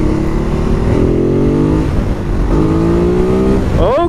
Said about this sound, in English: This bike has such a weird noise, like, it doesn't sound like a normal bike, it sounds so much gruntier.